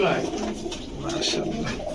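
Gola pigeons coo softly and repeatedly at close range in a pigeon-keeping spot, their low throaty calls blending with faint voices in the background.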